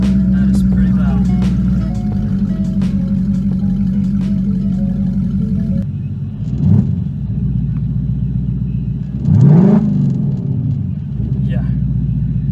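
A wrecked Ford Mustang GT V8 idles loud and rough through its missing exhaust with a deep, pulsing rumble, rising in two sharp revs partway through.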